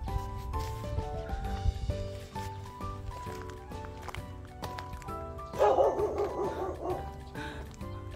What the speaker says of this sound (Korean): 낯선 사람이 왔다고 짖고 난리 났어요.